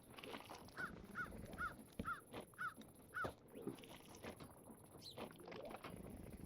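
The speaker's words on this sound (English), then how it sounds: "these things are making shulker noises" Minecraft shulker noises during survival multiplayer play: a series of six short, rising chirp-like calls at a steady rhythm over the first three seconds, followed by scattered softer game sounds, fairly quiet throughout.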